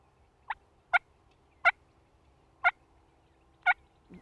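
Sharp, clipped turkey cuts from a hunting call, five separate notes spaced unevenly about a second apart, loud and close with silence between them.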